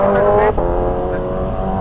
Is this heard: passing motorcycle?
yes